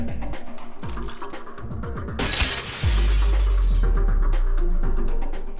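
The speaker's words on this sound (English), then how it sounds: "There's so much more broken glass in this level than you promised." Glass shatters in the video game Tomb Raider Legend, a sudden bright crash amid rhythmic game music, followed by a deep sustained low rumble.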